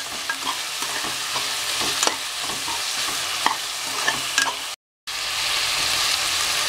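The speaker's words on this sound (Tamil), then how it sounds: "சின்ன சின்ன பீஸாக மெலிசாக கட் பண்ணோம்னா சீக்கிரத்தில் வதங்கிடும்." Thinly sliced onions sauté in a pan for a pressure-cooker chicken biryani, giving a steady close sizzle broken by light stirring scrapes and a brief dropout near the end.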